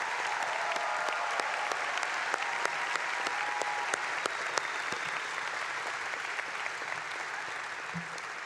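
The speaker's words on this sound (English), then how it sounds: "Let's give Jackson Kaguri another round of applause." Sustained applause from the audience at Cal Poly's 2016 fall commencement, steady and full throughout with dense clapping, no voices standing out.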